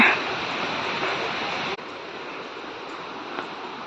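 A waterfall near a hilltop temple in Odisha roars as a steady, dense broadband rush, close and continuous, with a slight drop in level partway through.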